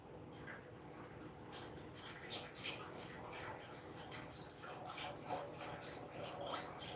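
Water pours into a pot, running and splashing steadily for several seconds, faint and continuous, with small drips and trickles on top.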